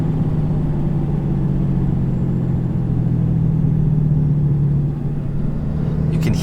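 A 2018 RAM 2500HD Laramie with a Cummins diesel revs out through third gear, a steady, loud low rumble that holds level throughout with no talk over it.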